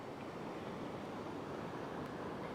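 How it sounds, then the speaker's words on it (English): Big ocean surf breaks on a fishing beach, a continuous broad wash of roaring water and wind, steady and fairly loud with no distinct pauses. "here's another little wave"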